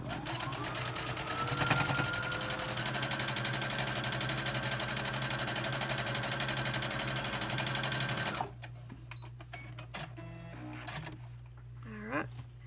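A sewing machine runs a long steady stitch down a scant quilt-block seam, motor humming loudly and evenly for about eight seconds before stopping, then quieter handling noises follow.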